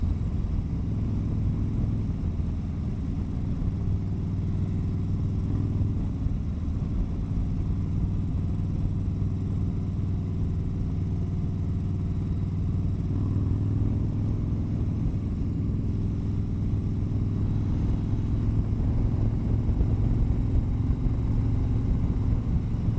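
A motorcycle is ridden along roads, its engine producing a steady low rumbling drone with slight swells in pitch as speed changes, close and continuous with no talk.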